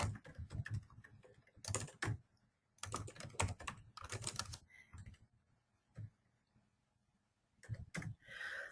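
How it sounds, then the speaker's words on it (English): An address is typed on a computer keyboard: soft, rapid bursts of clicking keystrokes with brief pauses between groups, close and quiet, with no talking. "So you'll simply type in the address."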